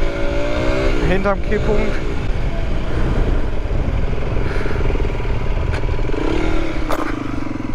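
A 125cc motorcycle revs hard during a wheelie and shifts into second gear, its engine note climbing loud and close, then dipping and rising again after the shift, with a brief spoken remark over it.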